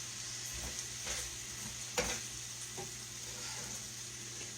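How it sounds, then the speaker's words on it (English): A casserole mixture with seasoning being stirred in a dish, soft scraping and swishing strokes under a steady background hum, fairly quiet, with one sharper knock near the middle. "we're just going to stir that around in here"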